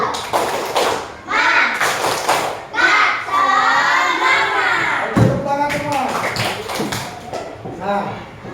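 A classroom group of children and a teacher perform a rhythmic spirit clap chant, with voices chanting in unison over sharp, steady hand taps and claps at close range.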